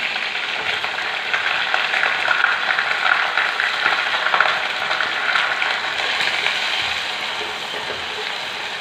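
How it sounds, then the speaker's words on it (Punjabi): Onions with green chilli and ginger fry in fully heated oil on a gas flame, giving a loud, steady sizzle with crackling spatter that runs throughout with no talking. "ਤੇਲ ਪੂਰਾ ਗਰਮ ਹੋ ਚੁੱਕਿਆ ਤੇ ਕੁਝ ਦੇਰ ਇਹਨੂੰ ਚਲਾਉਣਾ"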